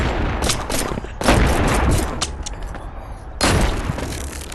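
Shotgun blasts fire in the VR game Animal Company, loud close bursts in quick succession with brief gaps, harsh broadband cracks dominating the scene.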